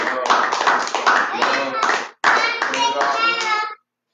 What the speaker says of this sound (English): Give the almighty hand clap.